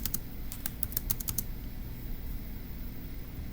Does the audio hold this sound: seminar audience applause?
no